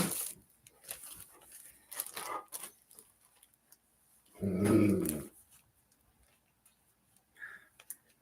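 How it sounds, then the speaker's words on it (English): Indoor dog giving a short, loud, close growl at something outside a window, amid quiet room sounds and faint ticking. "Dog saw something out the window."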